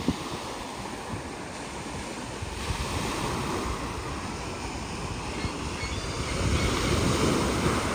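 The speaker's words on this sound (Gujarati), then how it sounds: "આ વખતે પાણીની લહેરો ખાલી જુઓ" Waves wash ashore in a steady broadband rush, mixed with wind buffeting the microphone and growing slightly louder toward the end.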